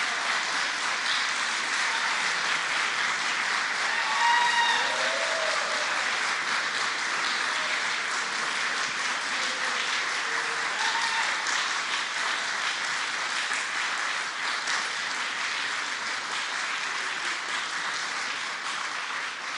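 A crowd applauds at a state COVID-19 press event where pandemic restrictions are lifted: steady, dense clapping that holds at an even level for the whole stretch, with faint scattered voices beneath.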